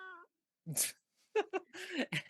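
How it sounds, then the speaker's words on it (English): A cat gives a short, clear meow, followed by bursts of breathy vocal noise and laughter-like sounds. All of it is close and fairly quiet. "that was a very clear studio quality meow"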